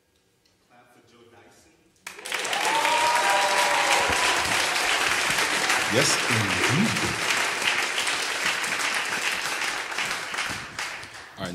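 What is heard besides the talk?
audience applause after a jazz concert number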